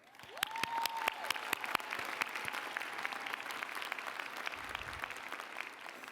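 Sustained audience applause fills a community college commencement ceremony, a dense steady clatter of many hands clapping throughout, with a brief tonal whistle-like sound near the start.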